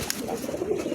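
Pigeons cooing softly in a short burst of low, throaty murmurs from a newly bought pair of fancy pigeons, a female Andalusian and a male of mosaic colour, with no talk.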